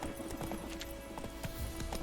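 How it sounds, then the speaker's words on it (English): Wild horses in The Witcher 3 video game, their hooves clip-clopping in a steady, uneven patter with a faint whinny among them, moderately close over a constant outdoor ambience. "Wild horses."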